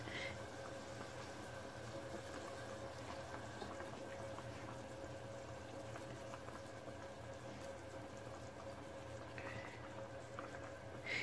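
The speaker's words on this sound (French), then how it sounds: "je vais tout simplement les mettre dans la sauce pour cuire" Minced meatballs simmer in a tajine sauce, giving a faint, even bubbling and gentle liquid patter that holds steady throughout, soft and close.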